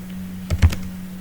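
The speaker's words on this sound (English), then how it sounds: "Now here I am typing, let's say," A few quick keystrokes on a computer keyboard while entering a database query, close and crisp clicks clustered together over a low steady hum, with no talking.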